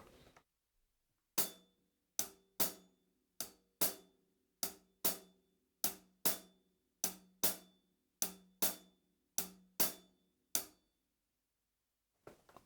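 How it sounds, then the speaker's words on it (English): A hi-hat played alone in a loose halftime shuffle rhythm, crisp ticks with uneven spacing between hits, close and clear in a quiet room. "So the hi-hat alone sounds like this."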